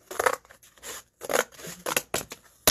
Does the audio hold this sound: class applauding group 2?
no